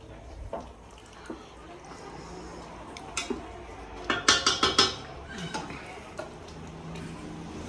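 Cooked rice for a homemade chicken biryani being stirred in a pot, giving scattered clinks and scrapes of a utensil against metal, with a quick burst of knocks in the middle and quieter taps at either side.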